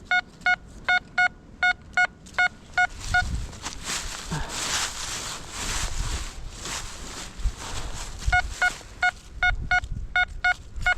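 A metal detector sweeping a Ukrainian forest floor gives bright, evenly spaced electronic beeps in quick series, falling silent mid-clip under windy rustling and handling noise, then beeping again toward the end.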